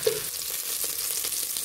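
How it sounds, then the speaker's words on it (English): Sausages frying in a pan with a little added fat, giving a steady close crackling sizzle with small scattered pops throughout and no talking. "So I'll give them a little bit of fat because sausages must sizzle"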